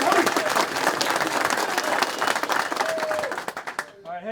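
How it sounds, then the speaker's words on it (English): Players of the Buffalo Bills football team clap in a meeting room, a lively mix of hand claps and cheers that thins out and gives way to someone speaking at the end. "Give yourself a round of applause."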